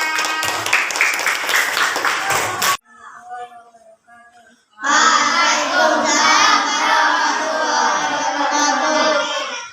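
Dense clapping from a classroom of students bursts out, breaks off into a pause with faint voices, then returns loud and sustained with children's voices mixed in.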